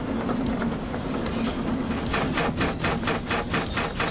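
A 384-tonne goods train rolls along in the Derail Valley simulator, giving a continuous rumbling drone. Rhythmic clickety-clack pulses of the wheels over rail joints grow clearer and more regular partway through.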